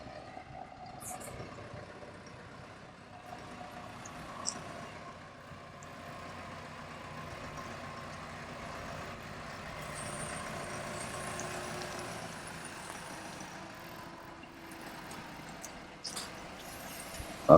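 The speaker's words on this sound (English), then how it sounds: "So the boat's just coming in now on the tractor." A tractor brings a boat into a UK boatyard. An engine rumbles low and steady at a moderate distance for the whole stretch, with the pitch shifting slightly as it works, and there is no talking.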